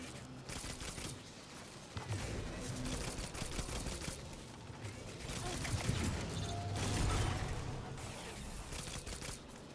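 Rapid gunfire in the video game Destiny 2, a dense continuous stream of weapon shots and impacts under a person talking.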